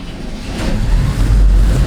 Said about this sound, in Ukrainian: Все, БТР завівся.